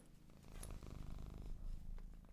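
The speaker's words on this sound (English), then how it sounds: "Oh, my cat is paying the microphone a visit." A cat purrs right against a microphone, a steady low rumbling vibration, close and continuous but quiet overall.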